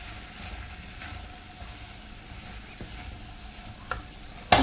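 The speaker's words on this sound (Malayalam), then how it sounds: "ഇനി നമുക്കിതിലേക്ക് നമ്മുടെ കട്ട് ചെയ്ത് മാറ്റി വെച്ച ഉരുളക്കിഴങ്ങ് പൊട്ടറ്റോ ഇട്ട് കൊടുക്കാം പിന്നെ ഒന്ന് ഇളക്കി കൊടുക്കാം" Cut potatoes are stirred into masala in a pan, giving a low, even sizzle with soft scraping. A sharper clatter comes near the end.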